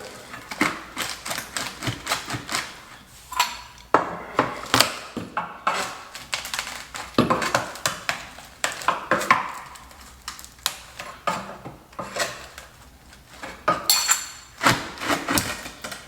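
A wooden baseboard is pried and pulled off a wall, giving a string of sharp cracks, knocks and creaks in irregular bursts, close and fairly loud, with no talk.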